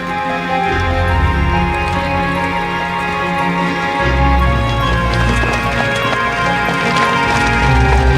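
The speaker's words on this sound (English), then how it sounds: "Some say the famous Camargue horses are descendants of the ponies that roamed through ancient Gaul." Camargue horses' hooves clip-clop in a steady running rhythm, carried at a constant moderate level beneath sustained music throughout.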